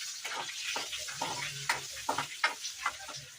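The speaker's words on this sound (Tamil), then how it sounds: "பட்டியை போட்டு நல்லா வதக்கலாம்" A single stick of cinnamon sautéing in hot oil in a home kitchen pan, with soft intermittent sizzles and stirring scrapes in short irregular bursts, fairly close and moderate in level.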